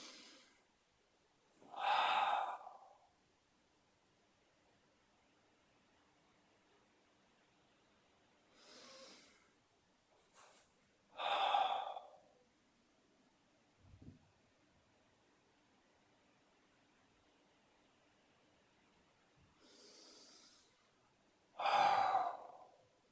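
Slow, deep breaths during a face-split stretching exercise, four loud breathy exhales spaced several seconds apart with softer breaths between, close up in an otherwise quiet room.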